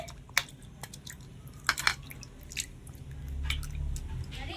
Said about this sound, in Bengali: এবারে পেঁপের টুকরোগুলো জলের মধ্যে নিয়ে নিচ্ছি একটু ধুয়ে নিতে হবে